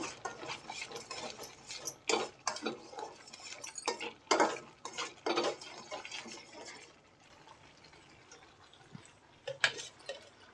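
A spoon stirs a thickening rice-water sweet in a pan, scraping and clinking against the metal in irregular strokes that fade to quieter stirring toward the end.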